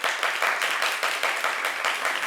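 A crowd at a televised Christmas family contest gives steady, moderately loud applause to vote for a family, a continuous wash of many hands clapping with slight surges in rhythm.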